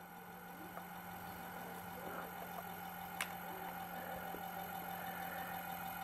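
A bicycle wheel Bedini motor spinning at 378 RPM gives off a steady electrical hum and whine, with faint regular ticks and one sharp click partway through.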